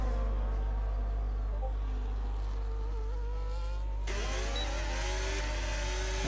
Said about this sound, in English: cars coming through at Blanchimont corner